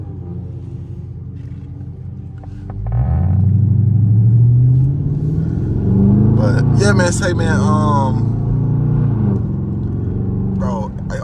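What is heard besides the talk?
Dodge Charger V6 loud exhaust driving in traffic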